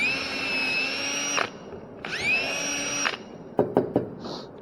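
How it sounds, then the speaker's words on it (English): A power drill predrills a small hole, giving two whining bursts that spin up, hold steady and cut off, followed by a few sharp clicks and knocks. "And I'm going to drill a cute little hole right here."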